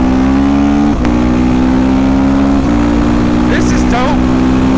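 A motorbike engine revs hard and accelerates through the gears while being ridden, loud and close with heavy wind rush. Its pitch climbs, then drops at gear shifts.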